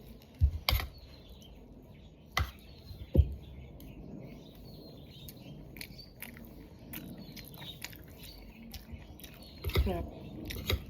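Someone eating dinuguan, a pork blood stew, with soft close chewing and a few sharp clicks of utensils or bites over a quiet room, with scattered faint background sounds.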